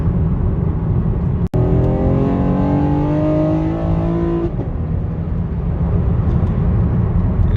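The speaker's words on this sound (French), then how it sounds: "L'accélération, il fait un beau bruit. Typiquement américain." A Chevrolet Camaro RS engine revs hard and close by with a deep American roar, climbing in pitch through one gear, then shifting and continuing to pull under steady road noise.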